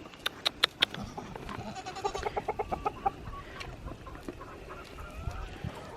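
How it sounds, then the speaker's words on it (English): Farmyard goat and chickens at morning feeding time: a few sharp bleats up front, then a quick run of rhythmic clucks, with scattered fowl calls and rustling nearby, fairly faint overall. "Goat chicken, you getting your food too?"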